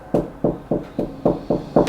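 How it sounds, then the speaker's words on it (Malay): Eight evenly spaced, firm knocks on a wooden door, close and distinct, in a steady rhythm with short gaps and nothing else heard. "2-3 kali dia ketuk."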